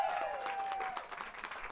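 An audience at a sheepdog penning demonstration breaks into steady applause after the sheep are shut in the pen, continuous clapping with a crowd feel and a short whistle-like tone early on.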